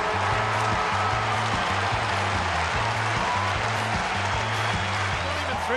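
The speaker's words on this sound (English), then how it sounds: "Listen to the crowd." A football stadium crowd at an AFL match roars in a broad, continuous wash of cheering, with a low rhythmic pulsing drone underneath, loud and sustained without clear speech.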